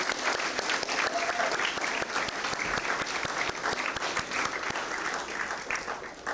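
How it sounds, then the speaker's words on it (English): A crowd at a Memorial Day breakfast claps loudly and continuously, a dense crackling patter of many hands that holds steady for several seconds before tapering slightly at the end. "Let's give them a big round of applause."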